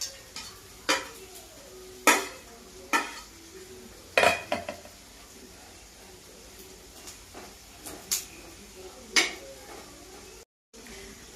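Clattering and scraping of a spatula in a pan as dried coconut is stirred and roasted for a bombil and brinjal dish, with sharp intermittent clanks over a faint low hiss.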